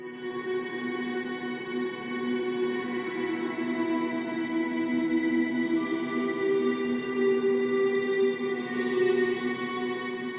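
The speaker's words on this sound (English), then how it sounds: "So I'm using my patch on the Strymon Big Sky MX on the blue mode" Ambient electric guitar drone run through an octaver and a Strymon Big Sky MX reverb in blue mode, a steady, dense shimmering wash of sustained layered tones that swells gently and holds without a break.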